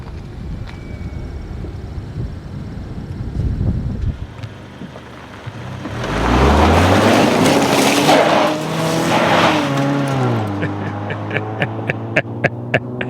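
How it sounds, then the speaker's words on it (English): A Mazda6 or Infiniti M35 Hybrid engine revs up hard in a burnout with a rising, roaring whine, holds at high pitch, then drops back to idle as sharp ticks follow. "we have got two of the lamest burnouts ever on video"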